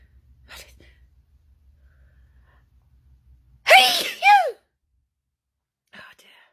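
A person sneezes twice in quick succession during a sneezing fit, loud and close, after a quiet stretch with faint breath and low background hum, followed by a soft breath.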